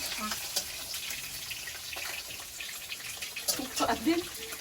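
Fish frying in hot oil in a village kitchen, a steady close crackling sizzle with a few sharper spatters and pops toward the end.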